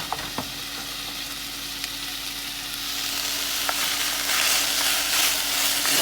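Peppers, onions and carrots frying in a cast iron skillet, a steady close sizzle that grows louder and brighter partway through, with a few light clicks of stirring.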